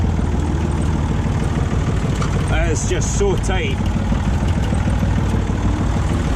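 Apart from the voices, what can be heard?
tractor engine running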